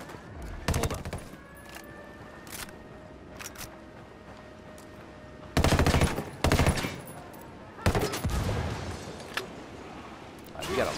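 Grenade launcher fire in Ghost Recon Wildlands, a handful of sharp loud blasts and bursts in irregular clusters, close, with quieter mechanical clicks and ambient game sound between shots.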